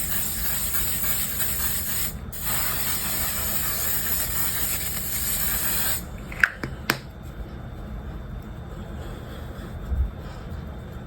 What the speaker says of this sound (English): Okay, last step, setting spray. L'Oreal Infallible is that girl.